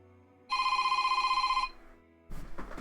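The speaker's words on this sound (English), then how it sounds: "Oh, that's a phone call." A video game phone rings loudly in a steady electronic trill for about a second, then stops, followed by a burst of other game sound.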